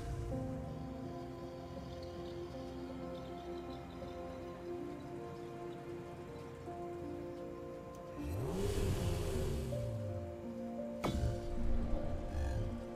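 A Honda NSX engine idles and revs in the Grid 2 racing game, a steady hum under rain-like hiss that swells into a louder rev burst near the end, with no talk.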